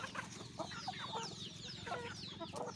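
Burmese crossbreed fighting roosters and other chickens cluck repeatedly at a farm, a faint, busy chorus of short calls over a low background hum.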